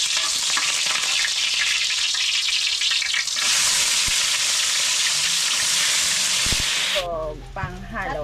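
Garlic and onion sizzle loudly in a hot oiled pan as they are sautéed for spaghetti sauce, a dense, continuous frying hiss with occasional stirring scrapes, before the sizzle cuts out and a voice speaks briefly.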